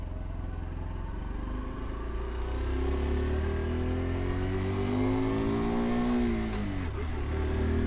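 A Honda mini motorcycle pulls away in first gear, its small engine droning steadily and rising slightly in pitch as it moves off, close and continuous with no talking.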